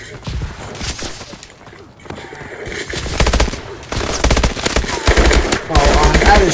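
Gunfire from a gun in an Xbox game, rapid loud bursts of automatic shots in clusters with short gaps, close and dense, with a voice talking between bursts.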